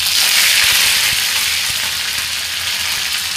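Curry leaves hitting hot oil that already holds cumin and mustard seeds, giving a loud, continuous hiss and crackle of frying close by for a few seconds, with no voices.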